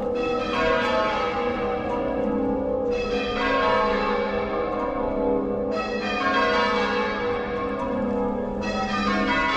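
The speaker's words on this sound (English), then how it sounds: "the bells chiming out" Peterborough Cathedral bells ring out in a repeating pattern of rich, resonant strikes, each peal decaying before the next, loud and sustained without talking.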